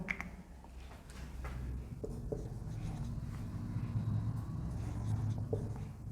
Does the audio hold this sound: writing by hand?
yes